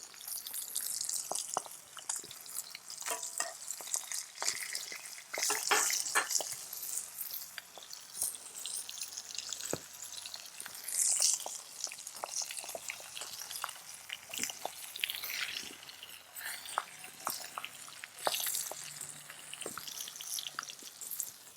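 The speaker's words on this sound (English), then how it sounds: "So trout sure is sizzling," Steady crackling sizzle of skin-on trout cooking over a fire, continuous and close, with occasional sharper pops and drips.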